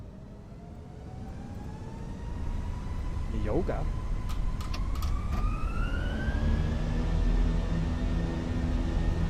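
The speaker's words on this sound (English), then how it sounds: "Listen to those engines rip it." Airbus A319 jet engines spooling up for a takeoff roll in Microsoft Flight Simulator 2020. The roar builds and holds loud and steady, with a rising whine, while someone talks over it.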